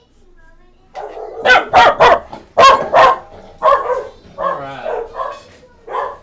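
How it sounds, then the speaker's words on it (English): A dog barks in a rapid series of sharp, loud woofs, close by and excited, with a few yips between bursts while a person says a word over it indoors. "Sorry about that, my dog's going crazy."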